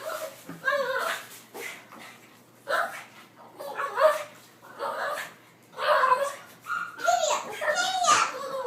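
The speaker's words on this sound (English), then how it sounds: "You want to know what my dog is chasing after?" A Boston terrier chasing a ceiling fan barks and whines in short excited bursts, close by, with brief pauses between the yips.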